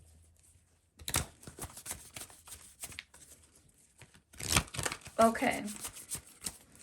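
Tarot cards shuffled by hand during a psychic reading, giving soft papery riffles and flutters in bursts, with a denser flurry near the end, between stretches of quiet talk.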